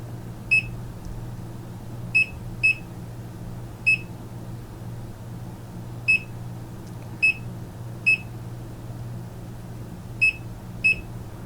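An EEPROM programmer writing BMW F-series mileage data gives short, sharp electronic beeps, about ten of them at irregular intervals, over a low steady hum.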